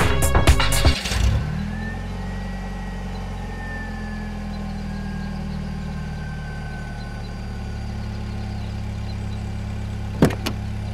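A car slows and comes to a stop at a roadside shop, its engine settling into a low steady idle after a brief burst of knocking at the start, with a short sharp click near the end.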